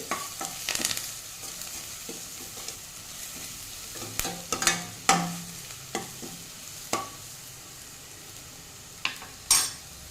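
A spoon stirring turmeric powder into frying egg and potato curry in a pan, gentle sizzling beneath sharp metallic scrapes and clinks that come in irregular bursts, close and with no talk.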